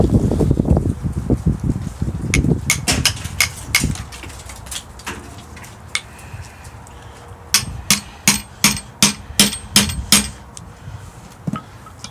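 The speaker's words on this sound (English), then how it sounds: "Go ahead and clamp it back up. And let's see what the chisel does." Sharp hammer blows drive a chisel into 8-ounce leather lamellar plate, first a dense cluster of strikes, then a pause, then a steady run of ringing, evenly spaced hits close by with no talking.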